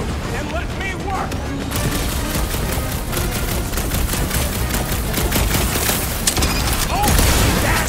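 Rapid gunfire rattles through a Guardians of the Galaxy video game battle, dense bursts of shots mixed with game effects and music, continuous and loud, with character voices talking over the action.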